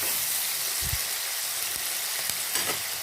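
Onions and tomatoes with salt sautéing in a pan, giving a steady close sizzle and hiss with a few soft scrapes and stirring knocks, and no talking.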